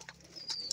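A pet pigeon calling indoors, a couple of short soft coos and a thin whistling tone within under a second, faint and close.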